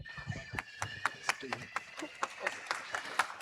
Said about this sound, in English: So give them a nice round of applause.